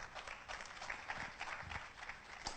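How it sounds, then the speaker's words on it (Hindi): Faint applause from an audience at a sales skills seminar, a short burst of scattered clapping heard from a distance. "जोरदार तालियां हो जाए रत्नेश को।"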